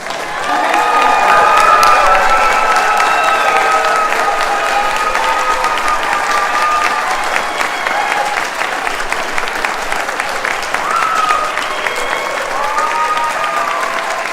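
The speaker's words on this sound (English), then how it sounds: "Scholars, stand up one more time for a rousing round of applause." Scholars at a College of Fine Arts and Communication gathering get a loud, sustained round of applause from a crowd, steady clapping with cheers and scattered shouts throughout.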